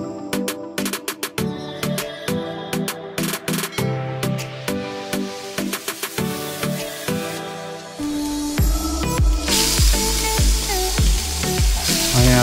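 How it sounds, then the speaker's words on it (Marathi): Squid stuffed with coconut chutney and pomfret, both salted and spiced, fry on a hot griddle in a Mumbai kitchen. Steady close sizzling is punctuated by sharp clinks and taps of utensils, and the frying grows louder and denser near the end. "मस्त नमक मसाला मीठ लावलेला नल आणि पापलेट आता आपण तव्यावरती टाकणार."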